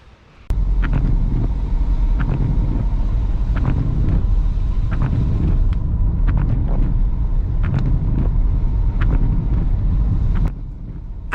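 Steady car engine and road rumble in a continuous drone along a long straight country lane near the hamlet of Greaves Lane, Edingley, with buffeting wind noise on the microphone and no talking.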